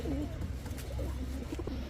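Soft, low coos from old-breed Bagha club pigeons repeat through the clip over a steady murmur of background noise, with no talking.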